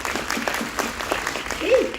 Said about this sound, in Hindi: एक बार जोरदार तालियां अपने लिए बजाएं, जोरदार तालियां